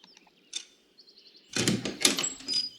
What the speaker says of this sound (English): I was woken by the noise of the door opening.